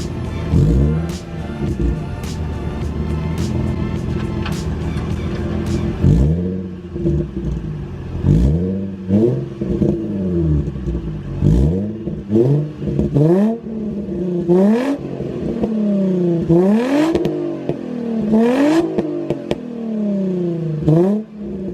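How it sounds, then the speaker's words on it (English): A car engine with a muffler delete revs repeatedly up and down, loud and close, with pops and crackles between the sweeps of throttle. "give you guys a couple revs and see how the car sounds with the muffler delete"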